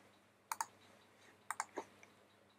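Someone types a short phrase on a computer keyboard in a quiet room, a few sharp, close key clicks in small clusters separated by brief pauses.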